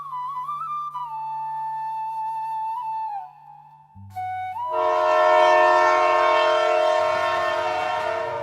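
A cartoon train rolls past, its horn sounding in long sustained tones that shift pitch before swelling into a loud, rich chord over steady rumbling wheels, close and prominent with no talk.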